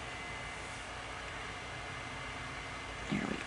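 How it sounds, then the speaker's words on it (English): A steady, low whirring hum like a computer fan drones continuously in the background, with a brief soft bump near the end. "I'm sorry if you hear the computer in the background"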